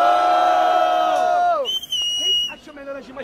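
A crowd at a Brazilian freestyle rap battle roars and cheers loudly, first a sustained shouting chorus, then scattered whoops and high-pitched yells as the noise breaks up.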